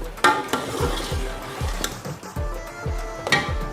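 A spoon stirs carrot halwa in a metal pot, with repeated scraping strokes and sharp clinks against the pot coming in a loose, steady rhythm, close by and with no voices.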